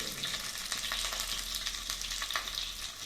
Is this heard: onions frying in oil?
yes